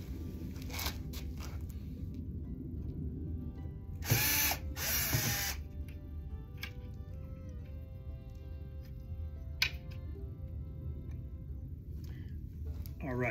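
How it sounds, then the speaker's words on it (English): A power drill backs out small Phillips head screws from an LG washer, its whir rising briefly in a couple of bursts over steady background noise while a voice talks throughout. "we will remove 2 more screws"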